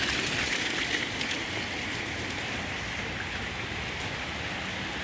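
Heavy rain pours down in Dubai as a dense, constant hiss of drops hitting the surfaces close by. It holds steady through the whole stretch, with no voices.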